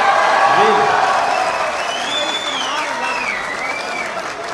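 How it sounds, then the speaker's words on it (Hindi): Audience applause at an Urdu poetry reading, a dense steady clapping that is loudest at the start and then eases slightly. It runs under a speaking voice with some pitch sweeps from the voice. "आपके लिए बहुत सी तालियां यार"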